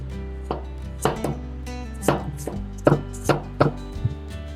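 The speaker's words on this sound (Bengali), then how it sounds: "এই পেঁয়াজগুলোকে এখন আমাকে একদম ছোট ছোট করে কেটে নিতে হবে" A knife chops onions into small pieces on a board, making a series of crisp, close, irregular thuds with short pauses between strokes and no talk.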